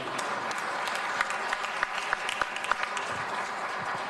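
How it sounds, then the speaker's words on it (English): Audience applause at a Los Angeles Police Commission community meeting, a steady spread of clapping from a moderate crowd with a few sharper individual claps standing out, no talk over it. "let's just applaud one more time"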